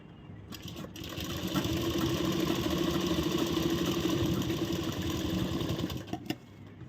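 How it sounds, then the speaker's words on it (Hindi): A sewing machine stitching a blouse, whirring up and running at a steady buzzing pace for several seconds close to the listener before slowing and stopping. "यहाँ से हम सिलाई शुरू कर देंगे"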